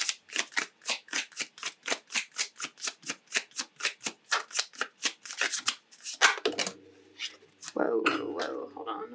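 Oracle cards riffle-shuffled in a long run of quick, evenly spaced flutters, close and crisp, then a few looser slides and soft slaps as cards are drawn and laid down, with faint talk underneath.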